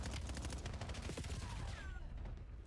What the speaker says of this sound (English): Wow, what a hail of gunfire.